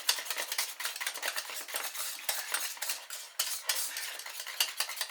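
Single cream being whisked very lightly in a bowl, a quick steady run of soft metallic ticks and scrapes from the whisk, close and continuous with no talking.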